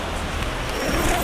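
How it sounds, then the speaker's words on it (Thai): A zipper being drawn closed on the door of a Lagoona EX 2021 small family tent, a steady close rasp lasting just over a second with no talk. "ตัวนี้รูดซิปปิด"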